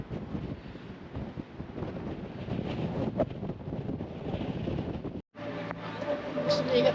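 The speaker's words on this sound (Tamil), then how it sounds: "பயங்கரமாக காற்றடிக்குது." Strong wind buffeting the microphone beside the Danube river in Budapest near the Chain Bridge, a steady loud roar that cuts out briefly then returns with a faint tonal hum.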